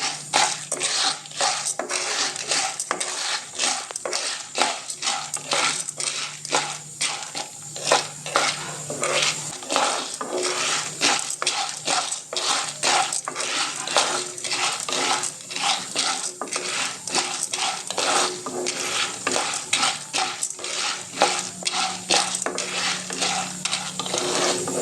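Small-grain corn kernels are stirred in a pan on the stove for homemade popcorn, giving a steady, dense scraping rattle with a faint frying sizzle that runs unbroken throughout, close and fairly loud, with no talking.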